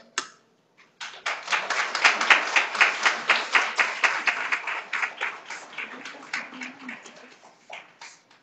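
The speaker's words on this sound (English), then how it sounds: "as you are receiving the pin, we will give you a round of applause" Audience applause at a CNA graduation ceremony as a graduate receives a pin: a steady round of clapping from a crowd, fairly close, rising quickly and holding for several seconds before tapering off.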